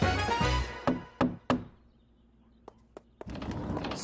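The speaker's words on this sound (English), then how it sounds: "Sorry I had to knock with my boot." Several hard, sharp knocks of a boot against a door, spaced irregularly and close by, following a burst of louder noise and ending in a busier stretch of sound.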